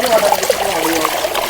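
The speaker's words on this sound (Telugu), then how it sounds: "ఇప్పుడైతే మనం అయితే ఉల్లిగడ్డ అయితే కడుక్కుందాం మంచిగా ఫ్రెష్గా" Water running steadily while onions are rinsed for a chilli fritter snack, a close, loud, continuous trickle and splash.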